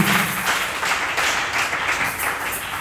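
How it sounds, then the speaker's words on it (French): A church congregation applauding during a Tuesday worship service, a steady, dense wash of many hands clapping with gentle rhythmic swells, fairly close and with no talk over it. "Applaudissez pour le Seigneur Jésus"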